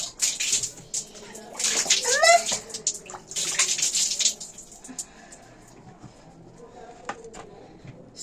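Running water splashes as someone washes their face at a tap, with bursts of gushing and splashing, brief squishy hand sounds and quieter pauses between rinses, heard close by.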